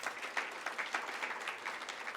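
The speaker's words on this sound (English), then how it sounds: "So maybe a round of applause for our contributors." Applause from the audience at a CEO infrastructure summit, a fairly faint, steady patter of many hands clapping, with no voices over it.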